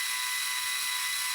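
A watch case for an Omega 484 movement is cut on a machining tool, producing a loud, continuous high-pitched whine that stays steady throughout, with no speech.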